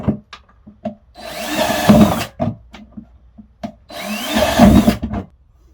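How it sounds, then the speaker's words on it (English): A power drill with a large bit bores drainage holes in a plastic potato-growing tub in a greenhouse, two sustained high-pitched whining bursts separated by clicks and handling knocks. "I'm going to get started drilling in some of those with a large drill bit"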